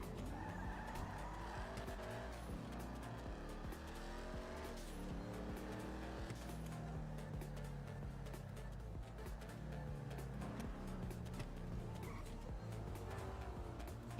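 A car driven in GTA NoPixel roleplay revs and squeals its tires through repeated skids, the engine pitch rising and falling continuously with no talk over it.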